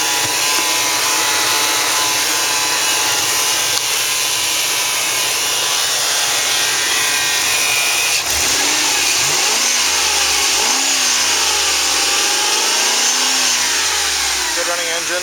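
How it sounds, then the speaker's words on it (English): A 2002 Ford Expedition Eddie Bauer with the 5.4 V8, automatic and four-wheel drive, 185,129 miles and heavily rusted underneath, idles steadily at a salvage yard, then revs up and down several times in the second half, loud and close. "Good running engine."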